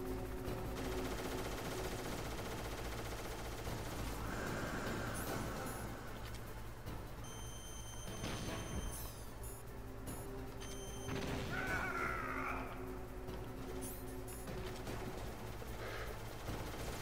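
Helicopter gunfire in Metal Gear Solid, scattered bursts of shots and booms over a constant droning background, fairly quiet throughout with sharper crashes around the middle.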